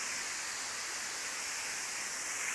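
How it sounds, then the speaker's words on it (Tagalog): Aruyan Falls in Sablayan, Occidental Mindoro, sends up a steady, dense roar of falling water. The wash is broad and even, heard at moderate distance without a break, and nobody speaks. "Ito yung falls."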